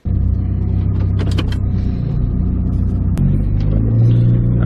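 A Chrysler PT Cruiser with tightened suspension, used as an off-road rally car, starts up and drives off, a loud steady engine rumble with a few brief higher mechanical clicks over it.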